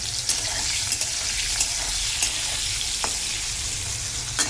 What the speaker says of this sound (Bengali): তো উচ্ছেটা আগে ভাজা করে নিই